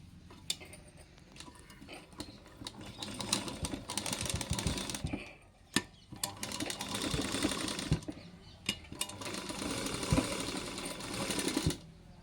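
Sewing machine stitching around blouse tassel fabric, running in bursts of rapid mechanical ticking and whirring with brief pauses and clicks between runs, close and moderately loud with no talk.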